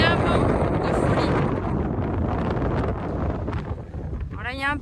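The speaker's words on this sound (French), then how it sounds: "Mais un vent de folie." Strong storm wind buffeting the microphone at a beach in Spain, loud gusty roaring that dips briefly and swells again, with a short burst of voice near the end.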